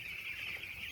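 Chickens clucking on a village poultry farm, a faint, very brief burst of fowl calls over a steady, low background.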